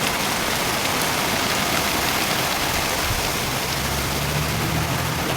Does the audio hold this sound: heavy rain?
yes